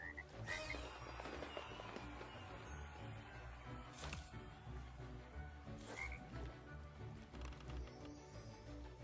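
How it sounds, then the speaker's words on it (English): Frogs croak repeatedly in a LEGO Party! video game minigame where four players, turned into frogs, hurry across a lily pond, with steady game music and effects running underneath. "4 players get transformed into frogs and then have to hurry across a lily pond"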